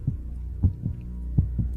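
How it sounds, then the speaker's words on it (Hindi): A deep, muffled heartbeat thumps in paired beats, steady and close, with a low hum beneath and no voices, setting a tense scene of a man hiding in an empty office bathroom. "सिर्फ सिद्धार्थ की धड़कनें और सांसें ही गूंज रही थी।"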